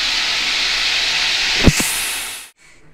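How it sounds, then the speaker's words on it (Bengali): Beans and potatoes frying in hot oil left over from frying fish, a steady loud hiss of sizzling with a brief clunk near the end before it cuts off. "ওই তেলের মধ্যে বিনস আলু ভাজা বসিয়েছি"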